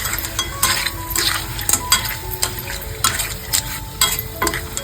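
Clam gravy with shell-on clams being stirred in a pan, giving repeated scraping and clinking spoon strokes over a soft simmering sizzle, close and rhythmic, with no talk.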